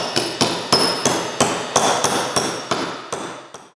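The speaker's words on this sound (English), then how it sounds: "use a brass hammer to press it down, and go until it's flush" Brass hammer tapping a bearing down into a governor housing during a repair: about ten sharp, evenly spaced metallic blows, close and fairly loud, with no talk.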